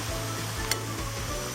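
Potato vada deep-frying in hot oil gives a steady, close sizzle and bubbling hiss that runs evenly throughout, with one brief sharper crackle partway through and no voices.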